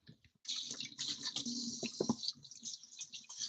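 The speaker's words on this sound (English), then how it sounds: "I'm gonna wash my hands" Water runs steadily at a kitchen sink as someone washes their hands, with splashing and a few bumps partway through. No one speaks over it.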